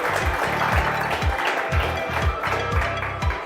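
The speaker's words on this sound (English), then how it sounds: "A big round of applause for all of them." An audience at a startup accelerator demo day claps for the judges, steady applause beneath a recurring low pulsing music beat, fairly loud throughout.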